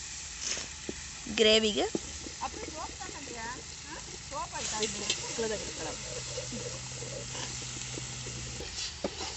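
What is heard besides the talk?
chicken added to hot gravy, sizzling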